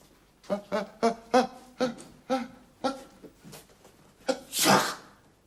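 A series of rhythmic vocal syllables leads into one loud, close sneeze at the end.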